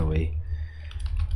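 Clicky keystrokes on a computer keyboard tap in a quick irregular run, close and clear over low background hum, with a brief voice at the very start.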